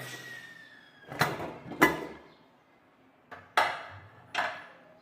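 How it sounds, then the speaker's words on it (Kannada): A handful of sharp metallic clanks and clatters from a pressure cooker lid being opened, spaced apart, with a brief sliding scrape between, close by in a quiet room. "ಈಗ ಕುಕ್ಕರ್ ಮುಚ್ಚಳ ಓಪನ್ ಮಾಡ್ತಾ ಇದ್ದೀನಿ"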